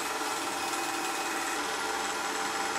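Sandpaper worked through progressively finer grits against wood spinning on a lathe during a live woodturning demo at The Craft Collective, giving a steady, continuous gritty hiss that holds close and unbroken throughout.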